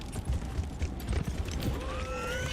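Galloping horse hooves in Dragon Age: Inquisition thud rapidly and unevenly, with a short whinny-like tone near the end, all over a busy game background.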